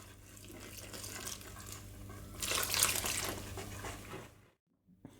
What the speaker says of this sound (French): L'eau tiède petit à petit.